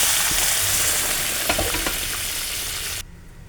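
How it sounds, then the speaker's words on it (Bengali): Dal with cauliflower is stirred in a hot pan, giving a close, bubbling sizzle with a few scraping stirs midway, before the sound drops off sharply to a quieter hiss at the end. "ডালটাকে আমি একটু ভালো করে নাড়িয়ে একটু ফুটতে দেব"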